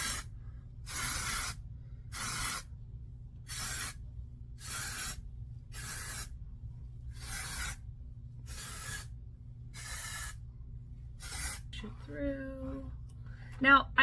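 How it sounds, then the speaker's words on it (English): Dry shampoo sprayed onto hair from an aerosol can in about eight short, evenly spaced hissing bursts, close and fairly loud, with a brief voice near the end. "we're just gonna do a little dry shampoo"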